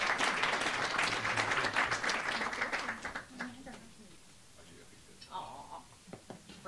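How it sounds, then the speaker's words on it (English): An audience at a student and alumni awards ceremony claps for the award winners, with steady loud applause that thins out and fades after a few seconds while a voice speaks over it. "Please give them another round of applause."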